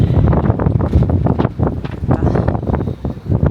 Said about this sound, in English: It's too much wind, too much cold.